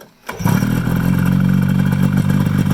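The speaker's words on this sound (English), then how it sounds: "let's have Trenton fire it up now" A 1973 Polaris vintage snowmobile with a 250 twin engine fires up and settles into a loud, close, steady idle with an even throbbing rhythm.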